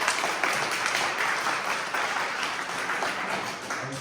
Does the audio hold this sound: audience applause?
yes